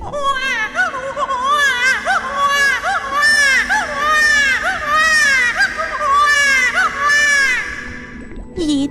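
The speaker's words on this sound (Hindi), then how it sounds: "ये तो कोई छोटी बच्ची की रोने की आवाज लग रही है।" A little girl in a cartoon village tale cries at night by a river. The sobbing is loud, high and wavering, with rising and falling wails that continue steadily throughout.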